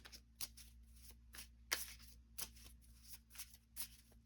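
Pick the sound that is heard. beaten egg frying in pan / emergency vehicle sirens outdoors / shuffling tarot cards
shuffling tarot cards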